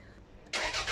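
Toyota RAV4 engine cranking and catching with petrol poured into the throttle, after a quiet start a sudden loud broadband roar kicks in halfway through and holds steady, close by.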